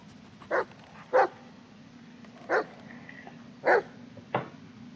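A dog gives five short, sharp barks spaced unevenly over a few seconds, fairly close and clear above a low, steady background rumble, with the last bark softer and clipped.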